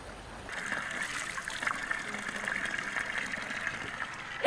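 Mineral spring water trickles steadily at the Istisu spring, known locally as 'qotur su', a soft, continuous, fairly quiet babble that holds after a short lull at the start.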